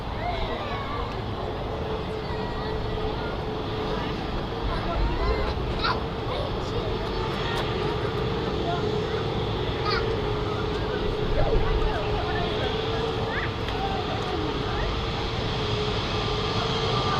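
Airliner taxiing at Manchester Airport, a steady broad engine rumble and whine holding at a constant level throughout, heard from a spotting position with no distinct talk.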